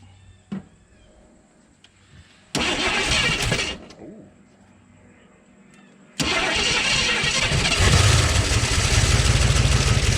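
An AMC Rebel car engine cranks briefly, catches and roars to life, drops back, then revs up again into a loud, steady running rumble close by.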